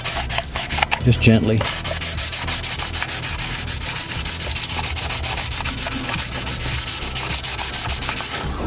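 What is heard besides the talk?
sanding a Hyundai Accent engine block with lubricant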